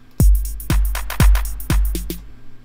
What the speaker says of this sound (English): Pattern number two, the clap riff.